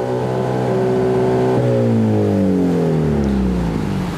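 A car engine revs loudly with its exhaust flap open, a sustained booming note that holds steady, then slides steadily downward as the revs drop, close by and with no voices over it.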